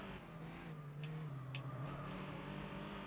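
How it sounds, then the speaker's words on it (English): Race car in Gran Turismo 4 boosting with nitrous, a steady sustained engine drone holding one pitch at moderate loudness for a few seconds. "Deploy more nitrous."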